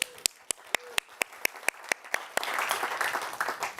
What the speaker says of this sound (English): So big applause for that.